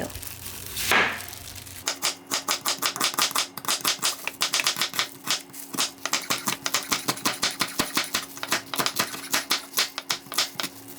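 Rapid knife strokes slice half an onion for dakgalbi on a cutting board, dozens of crisp, close chops in a steady fast rhythm after a brief rustle at the start.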